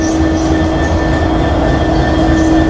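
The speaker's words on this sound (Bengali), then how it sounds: "এই যে আমাদের আজকের ইঞ্জিন" A locomotive engine idles at a station platform with a loud, steady diesel drone and a constant high whine over it, unbroken throughout.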